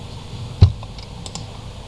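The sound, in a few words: typing on a computer keyboard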